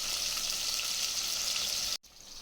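Whole small shallots frying for a country chicken curry, a steady dense sizzle that runs loud and close for about two seconds, then cuts to a brief quieter stretch.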